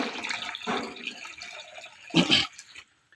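Fermented pig placenta liquid is poured into a fermented pig manure mixture for a cassava leaf spray, making brief splashing and gurgling pours, close by, with a louder splash near the end before it stops.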